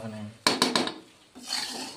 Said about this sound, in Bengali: হাঁড়িতে ভরে পুরো মিশিয়ে নেবে তারপরে।